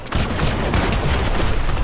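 A golden gun fires in a shadow-versus-ghosts shooter game, a dense run of rapid gunshots packed close together for the whole stretch, loud and continuous with no pauses.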